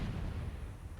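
Grenade blasts in the real-time strategy game Myth II: Soulblighter, heard as a dense, continuous low rumble of explosions that stays fairly even throughout, with no voices.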